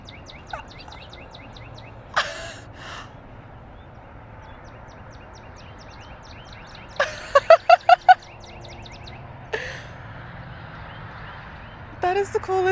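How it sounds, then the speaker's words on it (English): Birds calling outdoors on a sunny day, short chirps and honk-like calls scattered over a quiet background, with a quick burst of repeated notes midway and a person speaking at times. "I love the sounds of birds out here."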